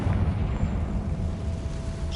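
Confringo spell blast hitting a barricade in the Hogwarts Legacy video game, a dull low rumbling explosion that rolls on steadily with a heavy bass body and no clear sharp onset.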